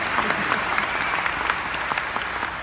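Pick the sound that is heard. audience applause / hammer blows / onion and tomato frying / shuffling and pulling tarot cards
audience applause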